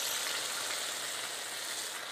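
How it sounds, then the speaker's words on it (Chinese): Tomato ketchup frying in hot oil while being stir-fried in a pan, giving a steady, bright, continuous sizzle with no pauses and no talking. "我们把番茄酱把它爆香"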